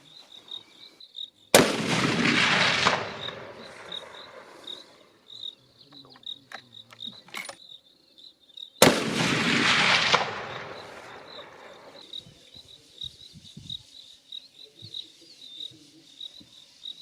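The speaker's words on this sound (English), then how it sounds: "Now we are going to shoot at 300." Two loud, sharp rifle shots from a Sabatti Rover Classic Hunter Pro on an outdoor range, fired at 300 meters about seven seconds apart, each echoing away over a steady chirping of insects.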